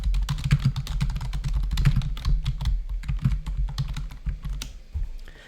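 Rapid, uneven clatter of keys on a computer keyboard, close and steady for several seconds before easing off at the end.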